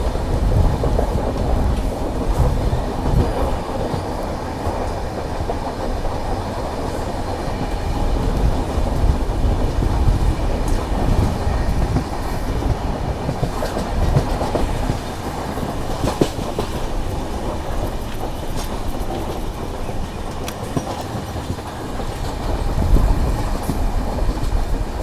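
The AP Express passenger train rumbles along slowly on a hilly ghat section, a heavy, continuous roar of wheels and carriage noise with occasional clanks, steady and loud throughout.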